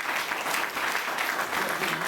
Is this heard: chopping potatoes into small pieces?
no